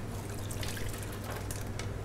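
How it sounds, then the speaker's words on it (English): Hot liquid trickled gradually into cold eggs, a soft steady pouring and dribbling stream, close and fairly quiet, with no talk. "Just pour a little bit and then just bring it all together bit by bit"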